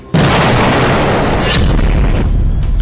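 A powerful explosion destroys a Hezbollah building as it strikes, one loud sudden boom that swells into a heavy rumbling roar and stays dense to the end.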